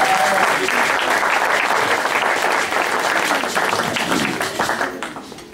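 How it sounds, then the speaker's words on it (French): A church congregation claps and cheers at a Sunday service, loud sustained applause filling the room and slowly tapering off near the end. "Acclamez pour la gloire."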